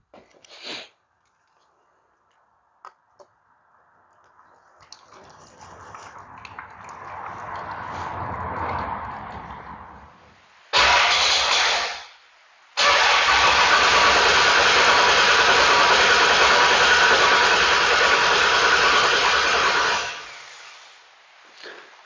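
A rebuilt engine on a Stella build cranks with a rising, labored whir, stalls briefly, then catches and runs loud and steady for several seconds before cutting off.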